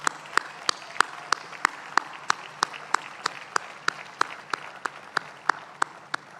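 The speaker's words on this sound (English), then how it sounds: "you will join me in another rousing round of applause for Ashe" Audience applause at the launch event with Rwandan President Paul Kagame, heard as a steady run of many hands clapping for several seconds, fairly distant and with sharp individual claps standing out above the crowd.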